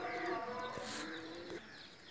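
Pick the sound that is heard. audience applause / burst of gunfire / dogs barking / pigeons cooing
pigeons cooing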